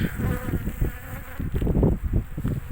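Dense, continuous buzzing of many honeybees close around an open hive in late spring, steady and loud with no talking.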